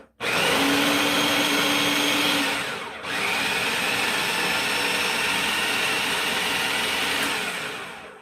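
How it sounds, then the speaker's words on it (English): A food processor runs steadily, blending chickpeas until smooth for a plant-based sausage, a loud continuous whirring motor that dips briefly partway through and then carries on alone. "we're going to put these chickpeas in the food processor, and we're going to process them till they're smooth"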